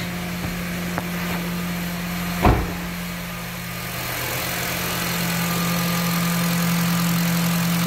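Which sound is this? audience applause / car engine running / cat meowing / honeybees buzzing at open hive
car engine running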